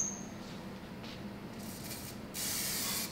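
A spray can hisses faintly in short bursts while painting, with a longer, stronger spray toward the end over a quiet background.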